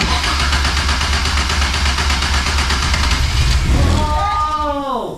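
Caterham 420R engine running loud and close with a steady rough mechanical roar that rises into a revving surge near the end, while people talk over it.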